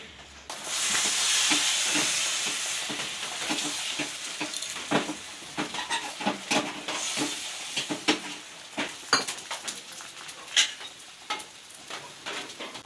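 Eggs fry noisily in hot oil for Kali Puja, a steady bright sizzle with bubbling crackles and pops as pieces are stirred and turned, loud and close.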